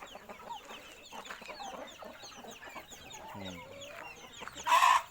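Chickens, including fighting cocks, cluck and chatter in a coop in the evening, with scattered calls overlapping and a louder burst near the end.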